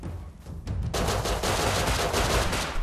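Rapid gunfire in the video game Rust, a dense burst of sharp cracking shots starting after a brief quieter lead-in and continuing to the end, loud and close.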